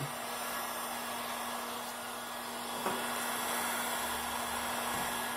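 A hair dryer blows steadily on a sticker to heat and loosen its adhesive, a constant close airy roar with a low hum that holds evenly throughout.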